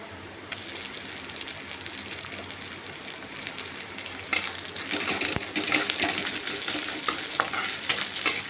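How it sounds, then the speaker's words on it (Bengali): Ginger and garlic fry with onions in a pan for a Bengali egg curry, a quiet sizzle that grows louder halfway through as stirring scrapes and clicks of the spoon sound up close. "আদা রসুন দিয়ে একটু ভাজছি ভালো করে।"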